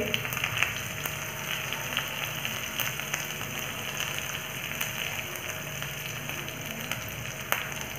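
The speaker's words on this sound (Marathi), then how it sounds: "जिरे तडतडले की त्यामध्ये हिरव्या मिरचीचे तुकडे" Continuous crackling sizzle of cumin seeds and green chilli pieces frying in hot ghee, steady and close, with occasional sharper pops.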